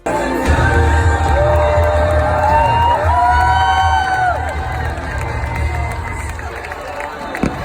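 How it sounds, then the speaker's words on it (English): A nighttime show crowd at Disney World erupts in loud cheering and whoops, with many voices shouting at once, close and energetic, then easing into a lower, steady crowd roar. "when Tinkerbell flew, the entire crowd went crazy"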